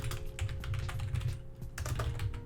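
Rapid, steady typing on a computer keyboard, with dense clicking keystrokes running continuously throughout at close range and no talking.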